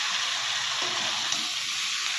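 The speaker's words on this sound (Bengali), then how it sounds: "মশলাটাকে ভালো করে কষিয়ে কষিয়ে রান্না করতে হবে বন্ধুরা" Spices sautéing in hot oil for a fish curry with winter vegetables make a steady, close sizzling hiss with no pauses and no talk.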